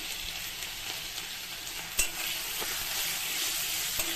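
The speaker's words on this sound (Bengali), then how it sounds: "সুন্দর করে কষিয়ে নেব" Spice masala with tomato paste is stir-fried, giving a dense, steady sizzle with a spoon scraping through it and one brief clack midway.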